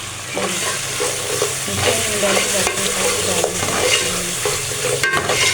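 Red chili masala stir-fried in a pan for dhaba-style aloo phaliyan, with a steady sizzle and stirring scrapes running throughout at moderate loudness, no voices.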